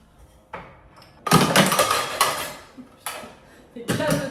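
Dishes, cutlery and pots clatter and clink in sharp bursts as a dishwasher is emptied in a home kitchen, irregular close clashes separated by brief quiet pauses.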